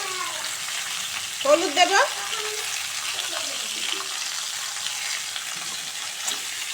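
Spinach and vegetables fry in hot oil in a village kitchen with a continuous close sizzle. Someone talks briefly over it.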